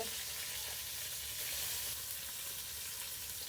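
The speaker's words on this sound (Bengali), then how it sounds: "মরিচটা কাঠখোলায় ভাইজা নেবেন" Chilies dry-roast in a clay pan in a village kitchen, giving a faint, even crackling hiss that runs steadily throughout.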